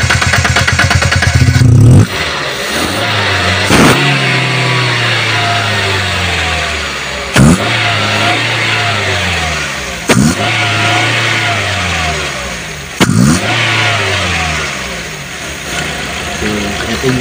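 A Daihatsu Gran Max dual VVT-i engine, cleaned at the throttle body, revs up repeatedly in sharp throttle blips that fall back to a rough, steady idle, recorded close with someone talking over it.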